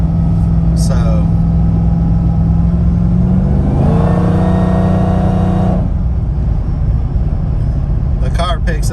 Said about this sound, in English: the car picks up speed very effortlessly